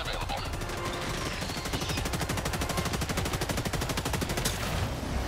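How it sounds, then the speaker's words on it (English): Rapid sustained automatic gunfire in the video game Helldivers, a dense rattling burst running steadily for several seconds, loud and close, with game noise and a faint voice underneath. "I've been shooting full clips, like multiple full clips of both weapons"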